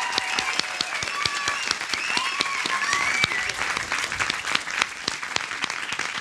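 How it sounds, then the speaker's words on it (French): Audience applause at an opening conference on web series, dense rapid clapping from a crowd held steady throughout, with a faint voice over it. "On peut applaudir Nicolas s'il vous plaît."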